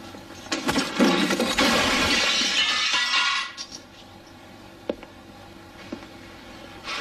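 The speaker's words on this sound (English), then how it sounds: "At least this time you smashed the machine, not someone's head." Glass shatters and crashes loudly as a pinball machine is smashed in a 1990 film scene, a dense burst of breaking followed by quieter scattered clinks and debris.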